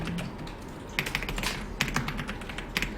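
Typing on a heavy, loud computer keyboard: close, clacky keystrokes come in uneven bursts over a low steady background hum.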